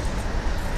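A train rumbles past at a distance outdoors, a broad low roar mixed with gusty wind buffeting, steady for the brief moment without pauses.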